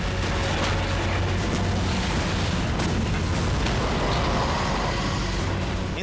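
Dense, continuous roar of Chinese artillery shelling with heavy low rumble and repeated booming blasts layered together, loud and sustained throughout with no pauses.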